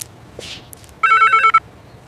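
Telephone ringing indoors: a single short burst of electronic ringing, loud and close, preceded by faint rustling and quiet movement.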